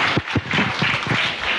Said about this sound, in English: Another round of applause for the principals